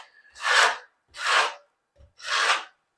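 A notch trowel scrapes mortar across the back of a tile in three close, even strokes, each a rasping gritty swipe of about half a second separated by brief pauses.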